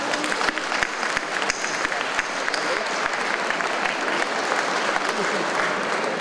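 Steady, dense applause from an audience at a volunteer award ceremony, continuous clapping filling the room throughout with some voices mixed in.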